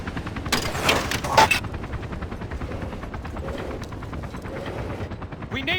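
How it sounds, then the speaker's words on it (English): An enemy helicopter drones through a Battlefield 2 Special Forces match on the Ghost Town map, while rapid bursts of automatic gunfire crackle close by near the start and give way to a steady rotor thrum. "Enemy chopper identified."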